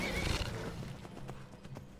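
A horse in the video game Skyrim whinnies loudly at the start, then hooves clip-clop faintly in the background as the neigh fades out.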